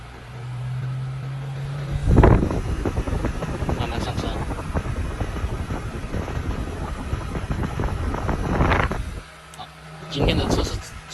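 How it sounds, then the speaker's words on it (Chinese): A portable ductless 2388 BTU tent air conditioner runs on strong mode at maximum fan and lowest temperature inside a Volkswagen Touran, giving a loud, steady rushing of air that starts abruptly, holds for several seconds, then cuts off. "这个是强劲模式，最大风力、最低温度啊"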